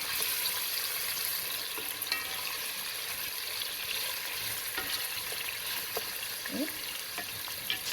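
Saltfish sizzles steadily in a pan for a Jamaican steamed calaloo dish, a continuous bright crackle with a few small clinks and stirring scrapes near the end and no talk.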